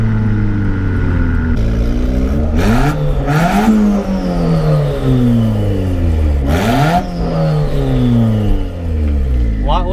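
A budget turbocharged Honda Civic revs hard on the road, its engine climbing through repeated pulls with sharp gear-change dips, loud and close in the cabin, with road and wind noise under it.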